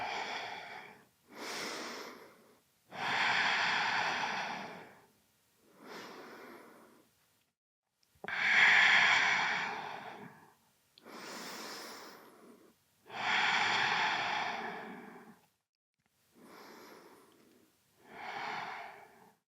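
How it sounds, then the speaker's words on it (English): Deep, slow breathing during a yoga forward fold in a vinyasa flow session, with about five long, audible inhale and exhale cycles close to the microphone, separated by short pauses. "Take about 5 breaths here."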